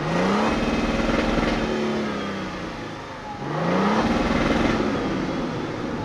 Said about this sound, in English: And then how about the exhaust? Should we listen to it from the... Let's take a listen. From the outside.